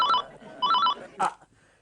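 A phone rings in two short trilling bursts separated by a brief pause, loud and close, followed by a short burst of voice.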